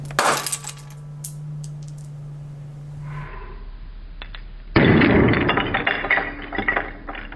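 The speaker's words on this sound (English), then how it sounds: "So we can see we totally shattered that racquetball." A racquetball frozen solid in liquid nitrogen drops and shatters with a loud, sudden burst of glassy cracking and clinking fragments that scatter and rattle on after the impact, with quieter hissing and clatter before it.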